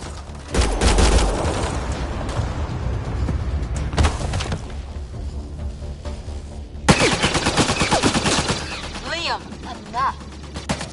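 Rapid bursts of gunfire in Mass Effect Andromeda combat, loud crackling volleys in two main clusters with dense rattling shots, mixed with battle noise and voices shouting in the fight.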